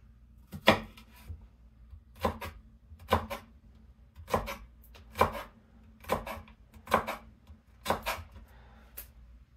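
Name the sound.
knife cutting the edge off food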